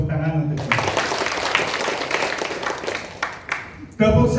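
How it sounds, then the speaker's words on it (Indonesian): A seminar audience of teachers in Jakarta claps together in a loud, dense burst of several seconds that cuts off abruptly, with a voice heard just before and just after. "Tepuk tangan untuk saya."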